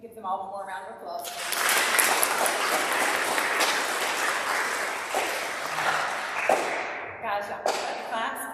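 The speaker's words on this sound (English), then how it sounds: "Can we give them all one more round of applause?" A school audience of students, parents and guests applauds after eighth grade speeches, a dense, sustained burst of clapping that swells quickly and runs for several seconds before thinning into scattered claps.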